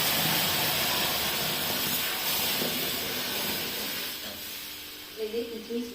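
Water poured into hot roasted semolina hisses into a loud burst of steam that slowly fades, with a voice coming in at the end.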